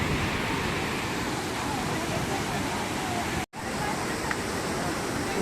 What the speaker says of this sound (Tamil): இந்த ஆங்கிள் இருந்து இன்னும் கூட பக்கத்தில் பார்க்கலாம் நம்ம தண்ணி விழுகிறத